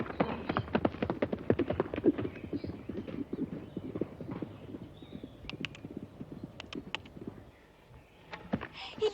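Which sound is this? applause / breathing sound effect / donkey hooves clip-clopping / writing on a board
donkey hooves clip-clopping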